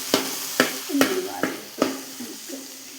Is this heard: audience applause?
no